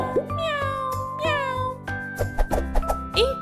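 Cat meowing repeatedly, several clear drawn-out meows, close and loud, with a children's music backing underneath and a few rustly thumps toward the end.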